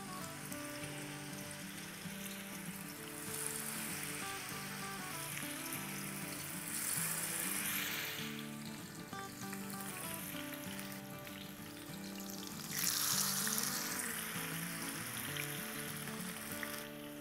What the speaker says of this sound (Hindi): यहाँ तेल जो है वो हमारा गर्म हो गया है, तो अब इसको हम लो की तरफ ले जाते हैं और जितनी सलाखें हुई है इसको डाल देते हैं